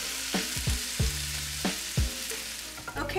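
Taco meat sizzles and fries in a pan, with stirring scrapes and bursts of spattering repeating irregularly over a steady close sizzle.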